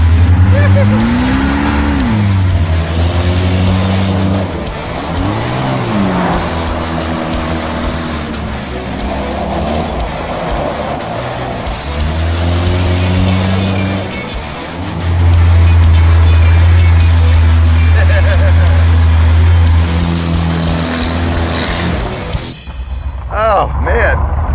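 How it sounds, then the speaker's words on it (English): A small, light mid-engine car stripped of doors and gutted on big tires drives and accelerates, its engine rising and falling in loud revving sweeps through gear changes, with people talking over it. "mid-engine, rear-engine, small light car gutted on big tires is a formula that never fails."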